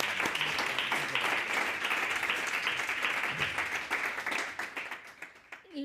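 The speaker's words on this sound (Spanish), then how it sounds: "un aplauso para Edmundo" Audience applause fills the room after a literature panel discussion at a Spanish-language cultural festival, dense and steady throughout before thinning slightly near the end.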